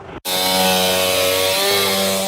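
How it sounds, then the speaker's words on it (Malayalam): A chainsaw used by fire crews cuts up a tree that fell across a highway in heavy rain. After a brief pause it starts, then whines steadily and loudly up close. "ഫയർഫോഴ്സും നാട്ടുകാരും ചേർന്നാണ് മരം മുറിച്ചു മാറ്റിയത്"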